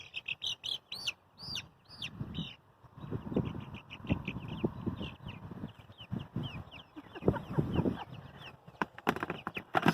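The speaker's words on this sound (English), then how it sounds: "Six little hens in their first experience on ground." Six young hens in a newly built chicken run cluck and chirp in short, scattered bursts close by, with soft rustling and shuffling on the ground between calls.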